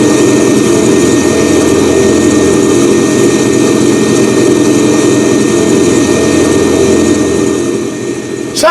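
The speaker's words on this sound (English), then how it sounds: "They got the sound, I think, perfect on this thing." Steady, loud propeller drone of a simulated Piper PA-28R Turbo Arrow light aircraft engine in a home flight simulator, a continuous broadband roar with no talking.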